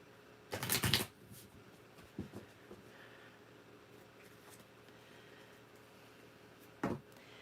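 A deck of tarot cards is shuffled in a brief riffling burst, followed by a couple of soft taps and another short shuffle later, close and quiet with no talking.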